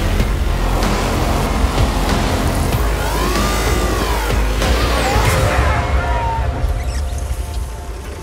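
A Bentley Continental driving on snow and ice, with a loud, continuous engine roar and tyre rumble close by, rising and falling tones as it accelerates, and a faint voice underneath.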